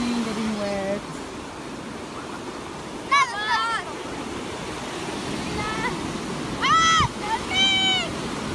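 Steady wash of ocean waves at the beach at Marina Park, a constant broad rush with people talking and short high-pitched vocal bursts over it.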